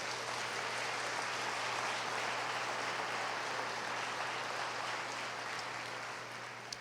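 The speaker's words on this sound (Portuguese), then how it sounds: "Quer aplaudir ao Senhor? Faça isso." A church congregation applauding during a sermon, a steady, continuous wash of many hands clapping that sounds somewhat distant and holds even throughout.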